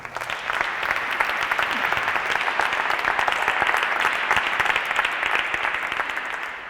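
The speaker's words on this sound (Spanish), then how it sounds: "Os pido un aplauso para Sara y para Juan Pedro también." Sustained audience applause at a talk on anthropology and thought, a dense, even clapping from a sizeable crowd that carries on steadily throughout at full strength and eases slightly at the end.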